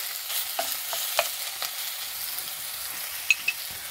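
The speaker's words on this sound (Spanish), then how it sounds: "Le voy a freír la carne molida. Voy a revolver bien, bien." Ground beef fries in hot oil in a pot with a soft, steady sizzle, punctuated by several quiet scraping and clinking stirs of a utensil, fairly faint and close with no talking.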